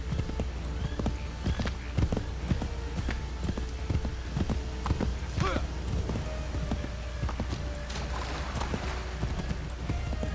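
In Assassin's Creed 3, a horse gallops with a quick rhythmic clip-clop of hooves, moderately loud over game ambience and scattered thuds, while a player talks at times.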